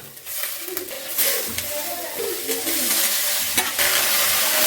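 Mudakkathan keerai greens sautéing with onions in a hot pan, a steady frying sizzle with repeated scraping stirs throughout, close and fairly loud, with no talking.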